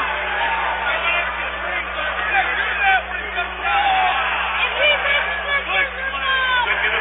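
Murmuring chatter from a basketball arena crowd during a pause at the free-throw line, a steady babble of many voices with occasional louder calls, close behind and slightly muffled.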